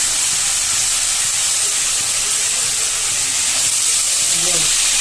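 Ground paste of melon seeds, cashew nuts, ginger and green chilli frying in a pan, giving a steady, loud broadband sizzle and hiss that runs unbroken throughout.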